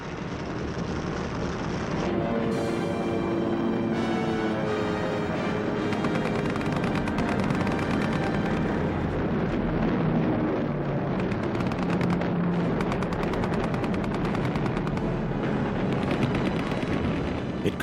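A WWII airstrike on Midway plays as a dense, loud, unbroken barrage of gunfire and explosions over a droning tonal layer.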